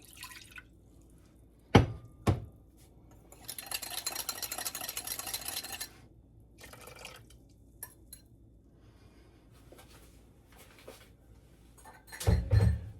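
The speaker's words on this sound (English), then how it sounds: "That looks slurry enough, so I'm just going to pour that in." Kimchi slurry pours into a pot on a stove as a soft, fairly quiet liquid rush lasting a couple of seconds. Scattered clinks, drips and small knocks come before and after, with no talking.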